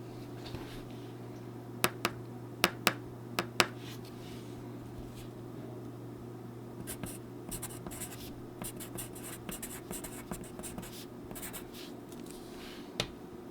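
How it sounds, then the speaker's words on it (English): An Oriole No. 2 pencil scratches across paper in a quiet room, with a run of sharp, close strokes and taps early on, then quicker clusters of soft scribbling, all alone without talk. "I will note though, this pencil sounds fantastic."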